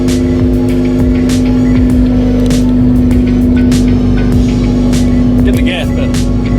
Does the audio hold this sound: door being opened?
no